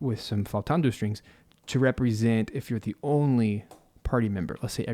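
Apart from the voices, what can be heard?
No everyday noises stand out.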